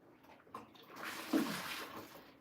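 Dirty, brownish rinse water poured out of a bowl of washed fish while preparing Nigerian egusi soup, a short gush and splash building in the middle of the clip, close and fairly quiet, no talking.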